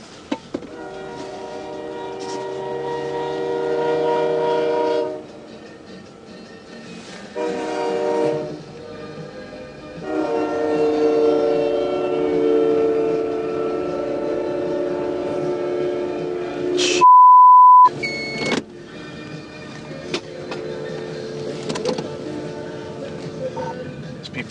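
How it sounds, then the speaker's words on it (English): Train horn blasts in long harmonic bursts at a Minnesota crossing where a train strikes a semi truck, with a brief sharp tone and clattering impact noise, plus a car radio playing in the background. "I just had a train strike a truck out here at 7 and 101"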